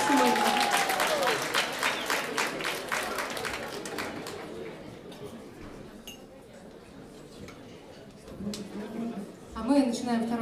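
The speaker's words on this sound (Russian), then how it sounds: "Прошу аплодисменты, Семен Умнов, наш гость сегодня." A concert audience applauds a guest performer at a variety show. The lively clapping fades after a few seconds into quieter room noise with glass clinks and talking voices, then briefly swells again near the end.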